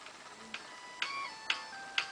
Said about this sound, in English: I'll just push play, and you can see it spinning up